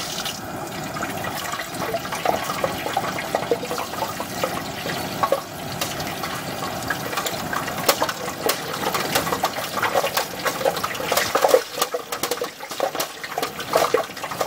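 Water rushing and gurgling as it gets into something, a continuous splashing flow with scattered sharp crackles and spurts, moderately near and fairly quiet, with no speech.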